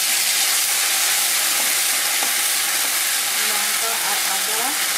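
Chili paste sizzles and fries steadily in hot oil while a silver carp curry is being cooked, a continuous close hiss that stays even throughout.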